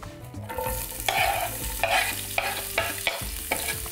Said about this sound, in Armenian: տապակում ենք սոխը։